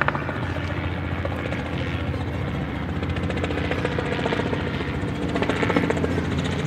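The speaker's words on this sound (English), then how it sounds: "Helicopter." A helicopter flies overhead near a stadium, its steady, loud rotor chop and engine roar filling the whole stretch without a break.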